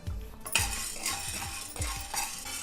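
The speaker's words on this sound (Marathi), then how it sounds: "मिरी भाजतोय आपण आता" Black peppercorns dry-roasting in a pan for homemade chaat masala are stirred steadily, giving close, repeated scraping and rattling strokes against the pan with no talk.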